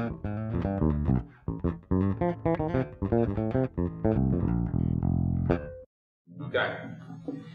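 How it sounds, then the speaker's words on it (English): Electric guitar through an Alnico 5 neck bobbin in a 1960s vintage Fender position, giving a Fender-style tone; a lively run of plucked notes and chords fills most of the passage, with a brief pause and a final strummed chord. "I'm gonna have a Fender kind of tone"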